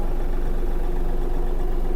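A Yanmar AF-333 mini tractor engine idles steadily nearby, a low, even chugging hum with a constant rhythmic throb and no talking.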